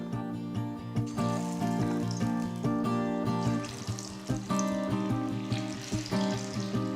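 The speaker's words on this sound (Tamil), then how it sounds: "இப்போ நம்ம சிக்கன் பீசஸை கொஞ்சம் கொஞ்சமாக எடுத்து போட்டு நல்லா ஃப்ரை பண்ணி எடுத்துடலாம்" Chicken pieces deep fry in hot oil in a kadai for an Indo Chinese dish, giving a steady bubbling sizzle with occasional crackles under continuous background music.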